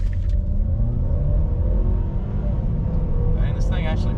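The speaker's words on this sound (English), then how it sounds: "Do a little brake launch here." 2017 Ford Escape Titanium 2.0L EcoBoost AWD in sport mode with traction control off, accelerating from a brake launch: a steady, moderately loud engine and road drone from inside the cabin, with brief voice-like sounds near the end.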